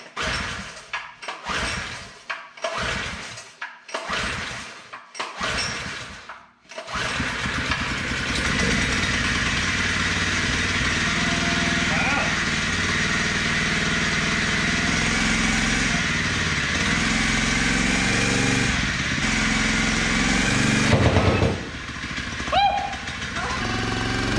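A cheap used jumping jack rammer's small engine fires on the first pull after several sharp pull-start bursts, then settles into a steady, loud, rough idle that runs on close by.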